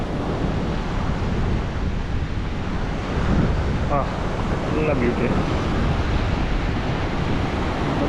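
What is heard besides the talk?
monsoon sea waves on the shore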